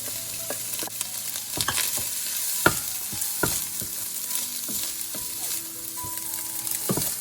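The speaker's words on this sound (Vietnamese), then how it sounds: "Rồi mình bắt đầu bỏ cái cơm hồi nãy vào để trộn đều" Cooked rice being stir-fried in a pan with a soy sauce mixture, with a steady sizzle under repeated sharp clanks and scrapes of the spatula against the pan; no voices.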